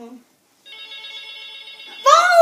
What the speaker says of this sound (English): So, it's a phone. Telephone.